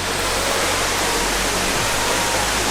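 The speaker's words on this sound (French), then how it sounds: "je viens d'aller me baigner, me prendre une petite douche sous cette cascade" A waterfall in Guinea pours in a steady, dense rush of broadband roar, loud and close, unchanging throughout with no voices.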